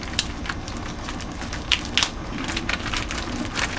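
A knife works through a spiral cut ham with dense crunching and crackling, broken by a few sharper snaps, loud and close throughout with no one speaking.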